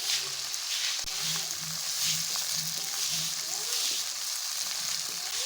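About four finely chopped tomatoes fry for keema karahi. They give a steady, loud sizzle, with a soft scrape or stir recurring roughly every half second and no talking.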